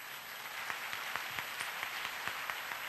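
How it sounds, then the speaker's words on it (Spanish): Steady applause from a church congregation at a Spanish-language leaders' conference, a dense wash of clapping with a few louder individual claps standing out at a regular beat. "Un aplauso para el Señor."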